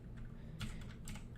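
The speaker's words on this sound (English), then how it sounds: "So if I type it right now" Quiet keystrokes on a computer keyboard as a command is entered in a Minecraft Bedrock Edition game, a few soft clustered taps with no talking.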